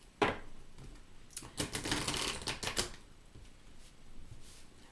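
Tarot cards being shuffled in a burst of rapid riffling clicks, fairly close and moderately loud, with a brief snap at the start and quieter card handling afterward.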